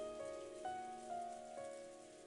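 Steady rain in the Umineko visual novel game, a soft continuous hiss layered under sustained tonal music with a few gentle chime-like accents, quiet and even throughout with no voices.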